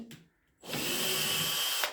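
A handheld power drill drives a screw into a wooden board at a Habitat for Humanity build site: a brief tap, then a steady, loud whirring run that stops abruptly.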